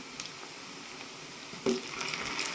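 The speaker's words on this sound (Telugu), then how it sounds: "ఇప్పుడు పచ్చిమిర్చి వేయించుకుందామండి." Green chillies fry in a pan with a soft, steady sizzle that swells briefly louder toward the end, close and quiet, with no voices.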